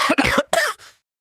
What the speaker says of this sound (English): He laughed in a weak voice and started to cough.